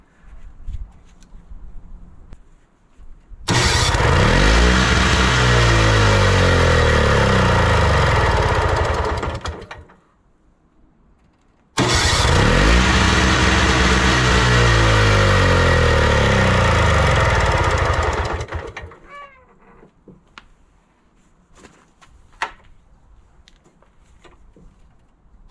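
A Snapper snowblower with a previously locked-up engine and a flooding carburetor starts up and runs loudly, roaring steadily for about six seconds, dropping out, then restarting and running again before shutting down, close up with brief talk around it.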